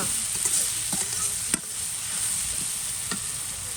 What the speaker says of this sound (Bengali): পেঁয়াজটা যেহেতু একটু ভাজা ভাজা হয়ে আসছে